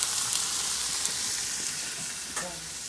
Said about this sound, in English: So we're going to turn that off and let it simmer